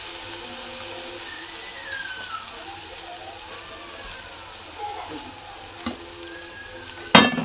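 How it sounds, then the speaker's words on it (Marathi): Horse gram is stir-fried in a pan with a steady sizzle and faint stirring scrapes. Occasional clinks come from the pan, a sharp clatter sounds near the end, and a voice is faintly heard. "चांगलं परतून घेते हुलगे पण।"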